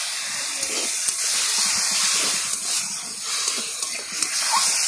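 A splash of water hits hot frying masala in a pan, setting off a loud, continuous steamy hiss that stays close and even with slight surges, no talking.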